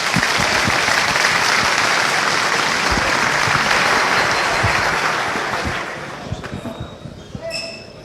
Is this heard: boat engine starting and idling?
no